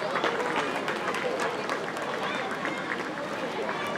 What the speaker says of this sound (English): Let's give the round of applause.